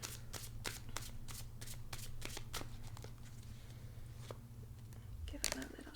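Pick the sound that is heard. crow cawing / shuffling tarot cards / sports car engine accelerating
shuffling tarot cards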